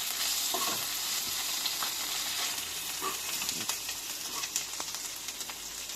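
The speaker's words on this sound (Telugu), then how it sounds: "1/2 టీ స్పూన్ అల్లం వెల్లుల్లి పేస్ట్ వేసుకోండి. దాన్ని పచ్చివాసన పోయేంత వరకు వేయించుకోవాలి" Ginger garlic paste sizzling in hot oil in a pan, a steady close crackling hiss with occasional stirring scrapes.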